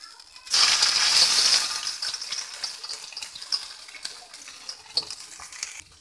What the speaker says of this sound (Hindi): इसको इस तरीके से हमें चलाना है और इसको ब्राउन करना है एकदम